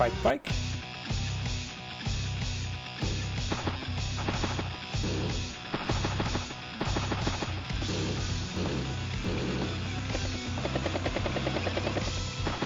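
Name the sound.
helicopter unit in Advance Wars: Days of Ruin video game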